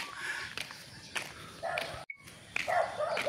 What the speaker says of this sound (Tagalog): Dalawang aso.